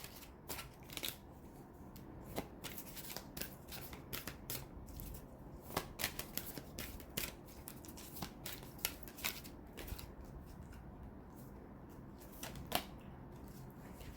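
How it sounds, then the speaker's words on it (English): Cards from a Halloween Oracle deck being pulled and handled, a run of soft scattered ticks and flicks over a low steady background hum, no talking. "now I'm going to pull 3 cards from the Halloween Oracle"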